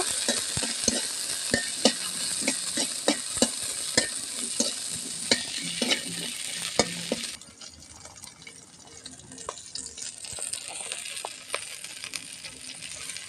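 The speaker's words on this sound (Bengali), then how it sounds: "কিছু গোটা কাঁচা লঙ্কা গোটা রসুন দিয়ে দিলাম এগুলো আমি এরকমভাবে একটু নেড়ে চেড়ে নেব" Whole green chillies and garlic stir in hot oil in a pan, with a steady sizzle and repeated sharp spatula scrapes and taps that ease off partway through, leaving a quieter, softer frying hiss.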